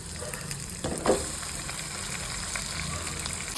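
Capsicum and vermicelli frying in a pan for upma, a steady close sizzle with a brief clatter of a spoon or ingredients dropping in near the start.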